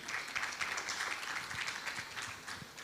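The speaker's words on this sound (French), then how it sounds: "vous pouvez les applaudir quand même" Faint applause from a conference audience after a panel discussion on customer experience in crisis, a soft, steady patter of clapping heard from some distance.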